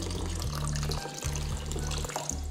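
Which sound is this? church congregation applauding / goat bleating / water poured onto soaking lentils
water poured onto soaking lentils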